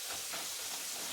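Buttermilk chicken fingers sizzle in hot oil on the stovetop, a steady, dense hiss with faint crackle, continuous and fairly quiet throughout.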